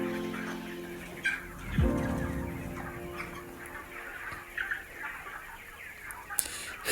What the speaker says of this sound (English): I have about 450 birds all in the farm.